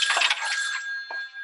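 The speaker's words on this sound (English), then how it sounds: "Mama Llama hears the phone." A telephone rings in a children's storybook reading: a bright, bell-like trill that fades, then a brief second ring.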